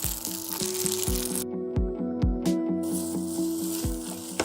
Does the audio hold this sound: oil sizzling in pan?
yes